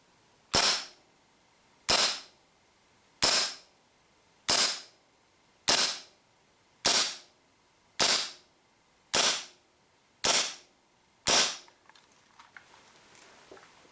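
A WE P08 Luger green gas blowback airsoft pistol firing 0.2 g BBs, ten sharp evenly spaced cracks about a second apart, each with a brief metallic tail, followed by faint handling noise.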